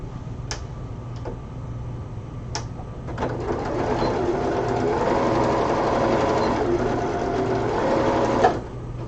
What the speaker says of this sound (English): I'm just going to sew this part up to the chalk mark